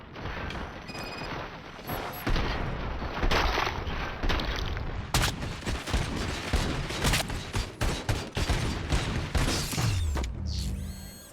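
Gunfire breaks out on an order to fire at will, a loud, close fusillade of rapid shots and mechanical clatter, dense and pulsing for several seconds before cutting off, with no talk over it.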